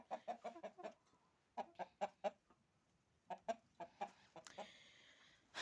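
Hens sitting in the sun outside their coop cluck in short, close bursts that come in quick clustered series with brief pauses between them.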